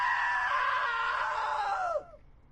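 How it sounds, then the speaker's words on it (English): A long, shrill scream from What Remains of Edith Finch holds for about two seconds, loud and close, then drops away into a short falling tail and quiet. "Now that was a great scream."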